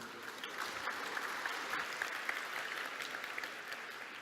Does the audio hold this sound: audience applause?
yes